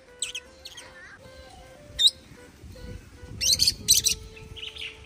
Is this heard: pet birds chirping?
yes